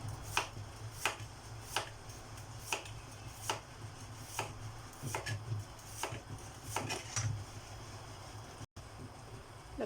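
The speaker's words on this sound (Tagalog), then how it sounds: "hiwain na natin itong ampalaya guys" A knife slices bitter gourd (ampalaya) on a board in a series of sharp, evenly spaced chops, about a dozen crisp taps, close and fairly quiet against a soft background hum.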